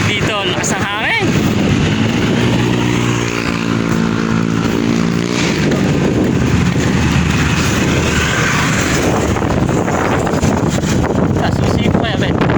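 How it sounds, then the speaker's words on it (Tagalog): Strong cold wind buffets the microphone in a steady, loud roar, with people talking over it in a few spots. "Napakalamig dito. Lakas ng hangin."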